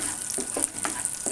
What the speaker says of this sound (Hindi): अब मैं इसके अंदर 2 टेबलस्पून चॉप किया हुआ लहसुन डाल दूँगी और इसे फ्राई करूँगी।